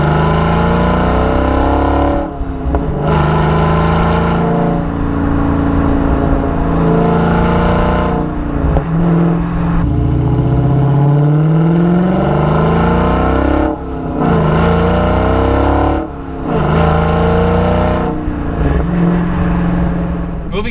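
A 2018 Dodge Challenger T/A with the 392 V8 accelerates under part throttle, its exhaust giving a loud, deep, continuous roar that climbs in pitch through several gear changes, each marked by a brief dip before building again.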